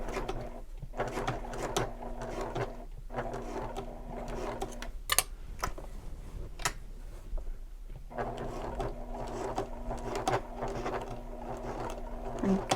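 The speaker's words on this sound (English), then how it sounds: "I sew carefully over the coils." A sewing machine stitches a vinyl shoulder bag over zipper coils in steady motor-driven runs, stopping and starting, with a few sharp clicks in the pauses.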